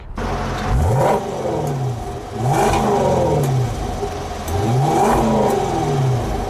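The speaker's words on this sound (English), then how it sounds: "show you what that 550 horsepower sounds like" A 550-horsepower 2020 Range Rover Velar SVAutobiography engine starts and revs up three times in succession, each rev rising and falling in pitch, loud and close with a deep throaty rumble.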